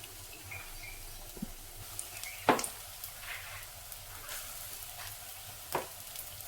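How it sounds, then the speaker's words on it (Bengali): Pakoras of gram flour batter for a yogurt curry fry in mustard oil, giving a faint, steady sizzle with a few sharp clinks and splutters scattered through it. "সর্ষের তেলে পকোড়াগুলোকে ভেজে নেব"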